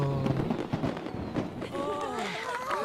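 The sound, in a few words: fireworks in the video game Genshin Impact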